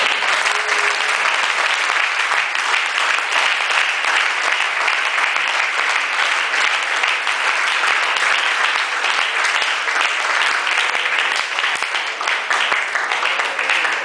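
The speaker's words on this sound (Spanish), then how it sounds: "Denle un aplauso al Señor, ¿no?" A church congregation applauds during a sermon. The many hands make a thick, sustained wash of clapping that stays loud and even throughout, with no voices on top.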